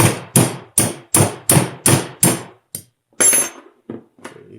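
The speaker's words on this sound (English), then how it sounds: "So I'm gonna use a hammer on this guy." Hammer blows on a Brembo 4-piston brake caliper during disassembly, a run of seven sharp evenly spaced metallic strikes, then a pause and a few looser, irregular hits, close and loud with no talk.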